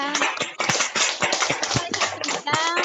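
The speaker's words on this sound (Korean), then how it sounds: "큰 박수 부탁합니다" Crowd applause after a lecture, with dense, steady clapping throughout, a few voices calling out over it.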